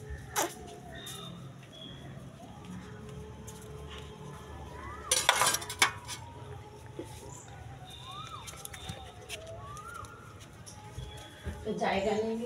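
Fish being cut in a home kitchen: scattered knife taps, clinks and a short clatter of utensils against a board or dish, with someone talking throughout.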